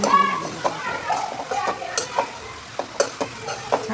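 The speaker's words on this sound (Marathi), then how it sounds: "छान परतून घ्यायचं." Soybean chunks coated in a tomato masala mixture sautéed in a pan, a steady sizzle broken by repeated scraping and stirring clinks at close range, with no talking.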